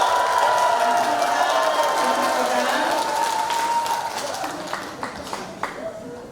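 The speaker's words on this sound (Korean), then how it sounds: "모든 분들께 큰 박수로 보내주세요" An auditorium audience at a Gyeongju University security lecture gives a burst of clapping and crowd noise that swells early and then tapers off, with someone speaking over it.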